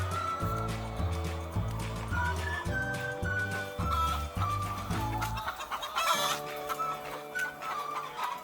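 Chickens cluck repeatedly in short rhythmic bursts on a busy Indonesian poultry farm, with a livestock cackle rising near the end. The sound is fairly close and carries alone, without speech.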